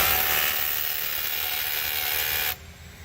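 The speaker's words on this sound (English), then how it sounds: "So we will go ahead and hammer drill." Close, loud buzzing whir of a hammer drill drilling holes while installing a storefront window sub sill, running steadily, then cutting off abruptly near the end, leaving quieter background noise.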